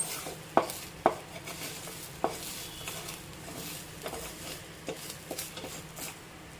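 Something is being sautéed and stirred in ghee over low heat, with a soft steady sizzle and a few sharp clicks of a spoon scraping the pan, fairly quiet and without talk.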